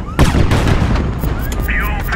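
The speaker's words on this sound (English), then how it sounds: "Uh-oh, rockets." Rockets firing and exploding in the game HighFleet: a sharp, heavy blast followed by a string of booming impacts and rumbling, with faint whistling streaks and a voice talking over it.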